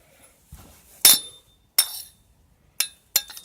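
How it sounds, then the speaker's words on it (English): A 32mm ring spanner clinks against the nut of a 22mm copper plumbing compression fitting as the nut is tightened. Four sharp metallic taps and clicks come up close, spaced with short silent gaps between them. "use the appropriate size spanner to do up the nut"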